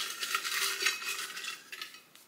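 A utensil mixes food in a pan, with soft scraping and clinking strokes over a few seconds, moderately close and fairly quiet, with no voices.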